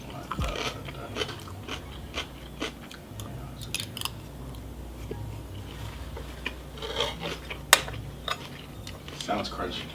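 Close, wet chewing and crunching of cucumber with Cajun sausage and rice, irregular bites and mouth sounds with crisp snaps throughout, loud and near.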